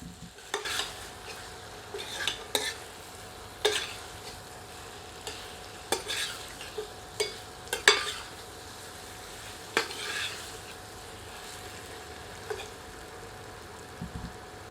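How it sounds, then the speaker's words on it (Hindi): Chicken pieces browning with spices over medium heat, a low continuous sizzle punctuated by repeated metallic ladle clinks and scrapes against the pot at an uneven rhythm. "मुर्ग को मसालों के साथ मिलाकर 3 से 4 मिनट मध्यम आंच पर भूनते हैं।"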